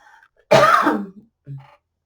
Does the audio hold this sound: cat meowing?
no